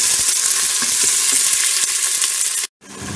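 Carrots and other vegetables fry for a sofrito with a loud, dense, steady sizzle and faint stirring taps, then the sound cuts out abruptly near the end before resuming more quietly.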